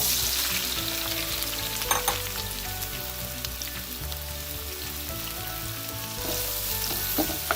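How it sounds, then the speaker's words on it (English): Sliced red onions sauté in hot ghee in a wok for beef biryani, producing a dense, steady sizzle close up with occasional sharp crackles and stirring scrapes, no one speaking. "I'm gonna start by sauteing our onions."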